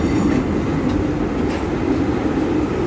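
A tram rolls past on city rails in Belgrade, a steady, loud low rumble with faint wheel clatter that holds evenly throughout without talk.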